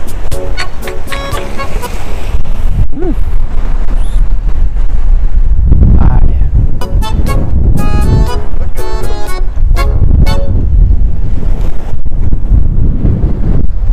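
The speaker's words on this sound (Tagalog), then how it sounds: "Preskong-presko yung hangin" Strong wind buffets the microphone along the Corniche waterfront in Qatar, a loud continuous roar with gusts, overlaid by passing car horns and traffic toots.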